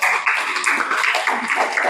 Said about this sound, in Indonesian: Tepuk tangan untuk yang memberi jawaban